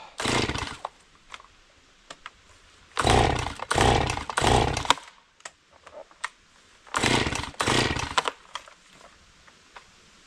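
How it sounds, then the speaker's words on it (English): A small chainsaw engine sputters in short bursts, revving briefly and dying out, three separate attempts with quiet pauses between. "Well, I can't get my chainsaw started."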